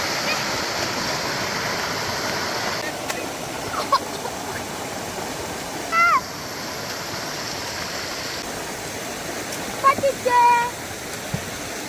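Water in the Mocheri stream, a small Kerala waterway, rushes in a steady, broad hiss from start to end, with a few brief, faint chirps and clicks breaking through.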